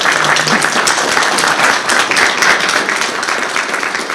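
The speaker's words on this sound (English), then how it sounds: "applause from the audience, I'm sure." A by-election disability question-and-answer event audience applauding steadily, dense loud clapping throughout with no break.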